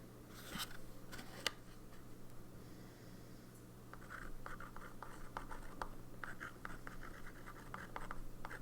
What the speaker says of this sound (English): And I'm going to write Fruit Punch on this box.